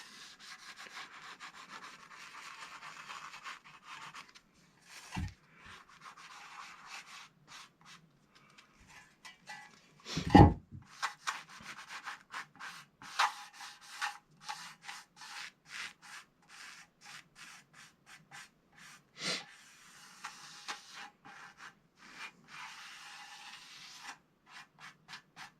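Hand sanding a vintage Lyle street sign to scuff the surface without cutting through: long rough rubbing strokes repeat close up with scratchy texture and a couple of louder knocks, no talking.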